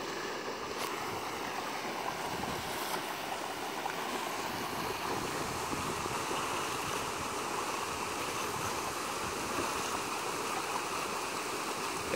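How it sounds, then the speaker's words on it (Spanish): Boiling water bubbles and churns in a geothermal hot spring at the Santa Teresa thermal fumaroles in Ahuachapán, El Salvador; a faint, continuous rushing hiss carries on without pause. "esa agua está hirviendo a una temperatura exageradamente caliente"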